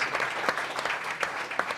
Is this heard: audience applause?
yes